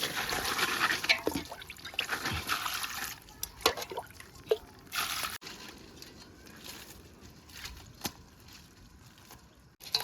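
Crabs being washed in water in a kitchen, with splashing, sloshing and trickling of water against the shells in irregular bursts, close and moderately loud, with no talk.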